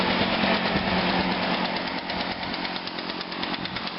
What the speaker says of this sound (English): Just do a noise test, and I'll do the same thing with the PB251 as well.